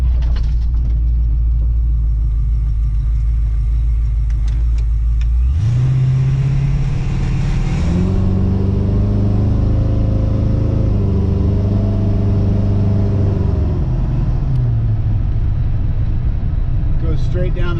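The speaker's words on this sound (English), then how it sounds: "Give you an idea of how this car runs. It's got probably upwards of close to 500 horse." A 1968 Ford Mustang GT350 with close to 500 horsepower rumbles at a low idle, then revs up into a rising, throaty drone as it accelerates. The engine settles back down near the end, loud and close.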